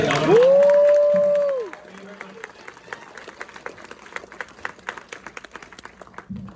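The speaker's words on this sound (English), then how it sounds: "a huge round of applause for Zach, please." Crowd at a film screening Q&A with the director breaking into applause, fairly faint, irregular clapping that follows an opening tone and continues for several seconds with some murmuring underneath.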